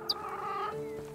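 Chicken clucking in the farming game Medieval Dynasty, a short nasal cluck with a drawn-out throaty tone, close and fairly quiet, alone.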